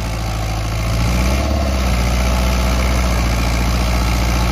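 A New Holland Dabung 85 tractor pulls a laser land leveller with its blade full, its diesel engine droning low and steady with a slight rise in load partway through, close and continuous with no talk.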